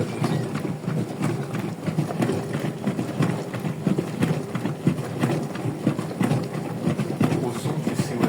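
A new Brandt washing machine churns with steady, rhythmic sloshing and soft thumping of water and laundry, continuous and close by.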